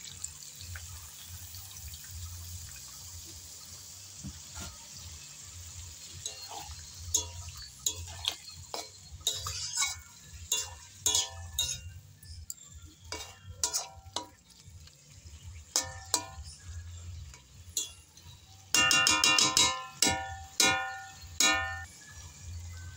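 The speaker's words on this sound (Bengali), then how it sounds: "এবার জল দিয়ে দেওয়া হচ্ছে।" Water poured into curry frying in a pan sets off crackling sizzle and splashing, with scattered sharp pops and a denser, louder burst of spattering near the end, no voices.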